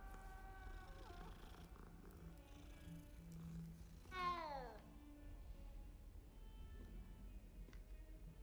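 A cat in the video game Hogwarts Legacy purrs and meows while being petted, a soft low rumble heard throughout with a brief rising meow near the middle, quiet and close.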